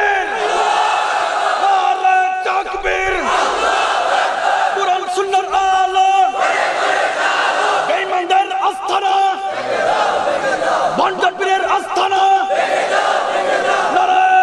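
A large crowd at a Bangla waz mahfil, an Islamic religious gathering, shouts the takbir chant in loud, sustained, massed voices that rise and fall in repeated waves.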